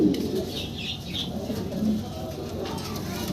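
Danish magpie pigeons coo close by in a loft, a soft repeated low burbling with a little wing fluttering, and someone talks quietly underneath.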